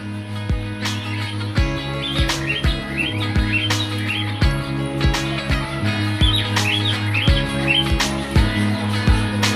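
Grey and white pearl cockatiels chirp and tweet repeatedly in an aviary at Shilparamam over a steady low hum, with occasional sharp clicks and knocks nearby.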